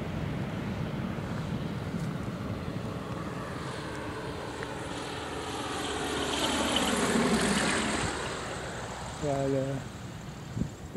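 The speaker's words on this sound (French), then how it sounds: "Et là, il y a un ULM, justement, qui va atterrir." An ultralight aircraft's engine drones in the distance and swells slightly as it passes closer while coming in to land, steady and buzzing, with a brief tonal beep near the end.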